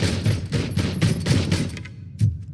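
Rapid bursts of gunfire from RoboCop: Rogue City fill the scene, a loud, dense volley of repeated shots that cuts off abruptly, followed by one final isolated shot.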